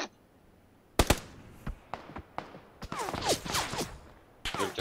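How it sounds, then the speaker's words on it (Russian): Gunfire in the video game PUBG Battlegrounds, several sharp shots and short bursts rattling off at irregular intervals, some nearer and louder, others more distant. "Надеюсь, Игорь, это не с тобой стрельба"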